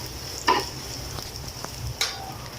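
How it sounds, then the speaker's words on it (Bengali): Dried chillies and chopped garlic frying lightly in a little oil, a soft steady sizzle with a few sharp clicks of a utensil against the pan, close and alone. "শুকনো মরিচগুলো হালকা একটু তেলে ফ্রাই করে নিচ্ছি"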